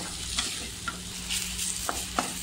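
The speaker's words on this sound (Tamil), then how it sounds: "நல்லா வதக்கிடலாம்." Thoothuvalai leaves are sautéed in a kadai, giving a steady close sizzle broken by a few sharp spoon scrapes and clicks as they are stirred.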